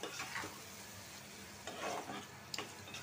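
Dried fish being stir-fried in oil in a pan, giving a soft steady sizzle with a few scraping stirs and small spikes from the utensil, close but fairly quiet and with no speech.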